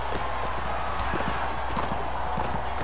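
Hooves clip-clopping steadily in the Mount and Blade video game, a continuous trotting rhythm at moderate volume with faint background din.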